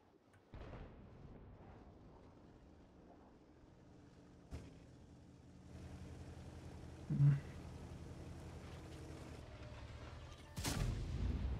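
In World of Tanks, tank guns go off as a few muffled, fairly faint booms spread over a quiet, low-rumbling background, with a sharper burst near the end.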